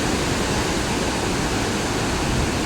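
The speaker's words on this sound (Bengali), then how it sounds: "আওয়াজ শুনে তোমরা বুঝতেই পারছো কতটা স্রোত।" A strong river current at Gajoldoba, Jalpaiguri rushes with a dense, unbroken roar of water, loud and close with no pauses.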